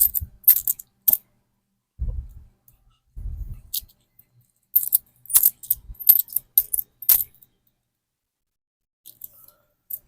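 A siomai vendor's coins clink and jingle in short bursts of metallic taps and scrapes as they are counted by hand, close up, separated by brief pauses of silence.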